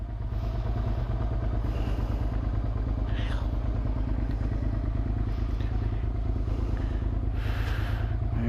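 A 2003 Suzuki SV650S motorcycle engine idles loud and close, its steady low throbbing rumble running throughout. A voice speaks faintly over the engine.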